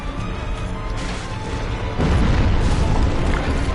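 A boss's explosion attack in Dark Souls Remastered, heard as a loud, sustained booming roar that swells sharply about halfway through and stays dense and rumbling to the end.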